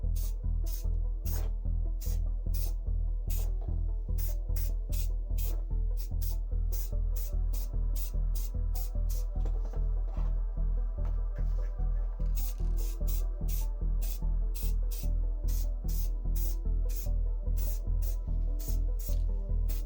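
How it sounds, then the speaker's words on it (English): Rapid, evenly spaced hissing bursts from a spray can of white primer hit miniatures from above for a zenithal highlight over black primer, each short puff repeating in a steady rhythm, close and alone. "then spray white primer only from above"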